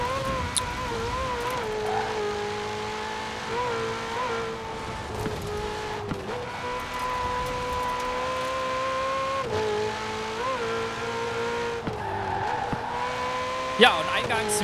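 A Ferrari engine in the racing game Forza Horizon 4 drones steadily at high revs, its pitch rising and dipping with repeated gear shifts and throttle changes, loud and continuous throughout.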